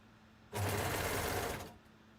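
A single close burst of a sewing machine running fast along a dress shoulder seam, lasting just over a second before stopping.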